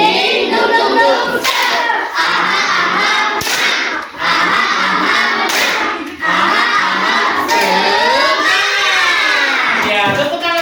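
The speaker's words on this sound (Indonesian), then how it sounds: "tepuk tangan semuanya" A class of children in a classroom claps hands together in quick, rhythmic bursts, mixed with loud chanting voices.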